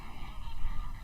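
A flock of about 500 flamingos on Inagua calls during courtship, a dense, loud chorus of overlapping goose-like honks with no talking.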